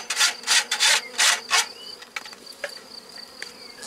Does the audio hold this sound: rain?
no